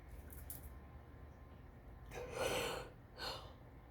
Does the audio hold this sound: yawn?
yes